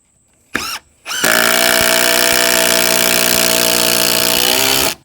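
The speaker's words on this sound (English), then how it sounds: "so I got the bolts started, and let me just screw them in." Power driver running a Timberlock lag deck screw 4.5 inches long into timber, a loud steady whine and grind held for about four seconds after two short bursts, close up.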